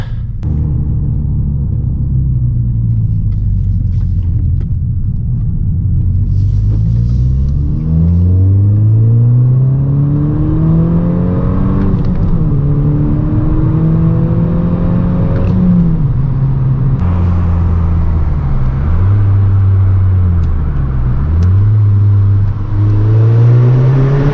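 A 2012 MK6 Volkswagen GTI with a 2.0T engine and a Go Fast Bits diverter valve accelerates hard through several gears, its loud engine rumble climbing and dropping with each shift, heard from inside the car.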